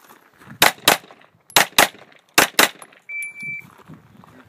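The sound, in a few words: gunfire during a shooting range string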